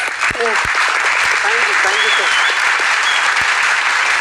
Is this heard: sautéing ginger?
no